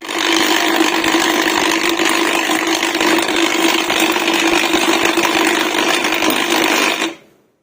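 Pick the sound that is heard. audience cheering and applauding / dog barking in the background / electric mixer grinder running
electric mixer grinder running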